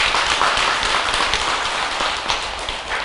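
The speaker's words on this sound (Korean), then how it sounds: "함께 봉사했던 불자들에게 박수 한번 보내주고" A crowd at a Buddhist temple Sunday family service claps together in a dense, sustained round of applause that holds steady for a few seconds before tapering slightly.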